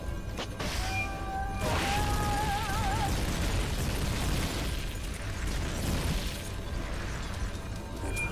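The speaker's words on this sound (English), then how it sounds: "Hit that thing with rockets" Rocket blasts in Metal Gear Solid Peace Walker, heavy rumbling explosions with a warbling alarm-like tone early on, then continued booming and debris roar, loud and sustained without talk.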